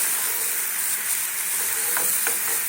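A spice masala for a chana dal curry sizzles steadily in a pan, a close, constant frying hiss with a couple of soft stirring scrapes near the end.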